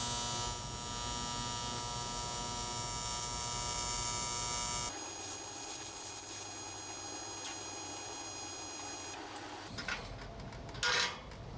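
A Lincoln Aspect 230 AC/DC TIG welder runs an AC arc on sine waveform, buzzing and humming continuously with a soft, even tone that shifts slightly in texture partway through before briefly crackling near the end.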